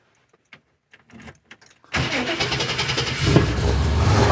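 Inside a classic car, a few faint clicks and rustles come before the engine starts abruptly and settles into a loud, rough, steady idle close by.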